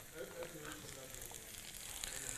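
Beef with bell peppers and long chilies sizzles steadily in a frying pan, a continuous crackling hiss close by with faint talk underneath.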